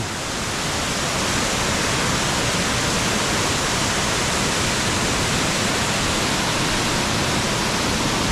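A waterfall near Sam Neua in Laos, where a picnic is underway, pours with a steady, dense roar of rushing water that fills the whole clip without pause and with no voices.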